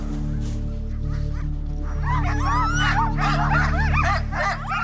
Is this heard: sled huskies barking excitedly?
yes